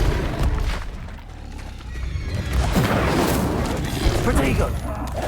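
A fire spell cast in the video game Hogwarts Legacy, a whooshing burst among booming spell effects and busy combat noise. It sounds fairly loud and continuous for a few seconds.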